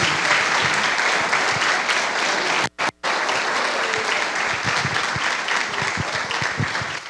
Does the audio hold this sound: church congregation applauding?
yes